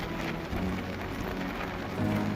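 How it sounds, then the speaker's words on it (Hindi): Light rain falling in the mountains beside the Sindh river on the Jammu–Kargil road: a soft, even patter of drops with a low steady hum underneath. "ऊपर से हल्की हल्की बारिश"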